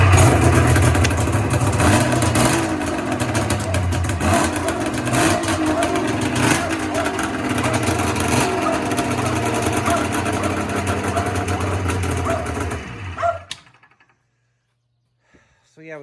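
Rebuilt-carburetor engine of a ZRT 800 snowmobile running loud and steady at close range with a few rev swells, then cutting off abruptly near the end, leaving near silence.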